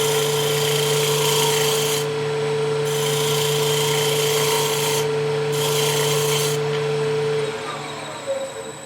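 A woodturning lathe spins an end-grain goblet blank, its steady motor hum running under bursts of rasping, scraping cuts from the tool that start and stop as the wood is shaped, ending with a faint clack.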